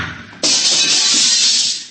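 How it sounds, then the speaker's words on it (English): A blaster shot fired at a door lock, a radio drama sound effect, bursts in abruptly as a loud, sustained hissing blast that holds steady and then fades slightly at the end. "I'll have to blast the lock."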